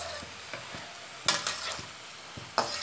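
Paneer and potato pieces frying in a pan and being turned, with a sizzle under several scraping stirs and a couple of sharper clatters from the spatula, close by and with no voices.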